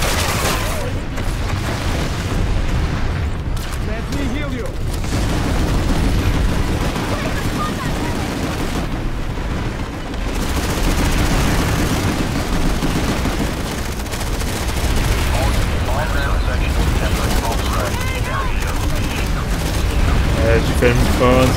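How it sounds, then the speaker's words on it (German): Orbital strike explosions in Planetside 2 land as a dense, continuous barrage of booms and gunfire, loud and sustained throughout with a brief dip in the middle, under a German-speaking player's voice. "Orbital Strikes."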